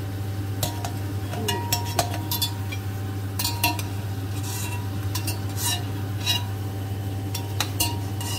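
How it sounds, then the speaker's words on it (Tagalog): Gnocchi stirred into pesto basil sauce: a spoon clinks and scrapes against the pot in irregular, close strokes over a low, constant hum. "And then, just mix. Mix lang natin sa pesto."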